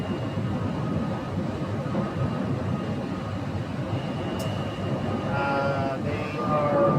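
A Southwest jet airliner lands on runway 8 at Phoenix, giving a broad, steady roar of engine and rushing air in the distance that swells slightly toward the end, with a faint whine rising over it.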